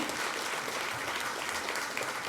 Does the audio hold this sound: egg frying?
no